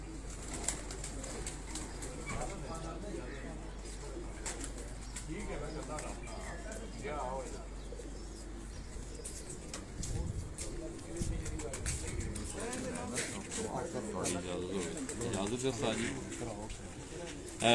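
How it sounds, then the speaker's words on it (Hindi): Heera laal pigeons at a home loft, soft repeated cooing murmurs, close but low, beneath someone talking almost continuously. "ये वो कबूतर हैं उस्ताद दिलावर खान साहब मरहूम के घर के"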